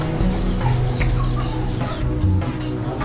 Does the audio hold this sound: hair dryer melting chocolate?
no